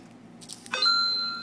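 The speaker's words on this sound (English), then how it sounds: "Phone just went off." A phone notification chimes once, a short bright electronic ding with a lingering ring, heard faintly in a quiet room.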